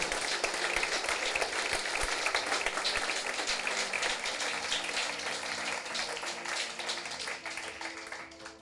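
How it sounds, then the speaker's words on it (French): Audience applause after a business opportunity presentation, sustained crowd clapping heard moderately close for several seconds and tapering slightly toward the end. "Est-ce que vous applaudissez?"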